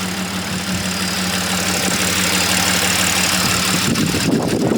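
A flooded supercharged Audi A6 engine idles while warming up, giving a steady, loud, close mechanical hum with an even low rumble. It runs without a break and no one speaks.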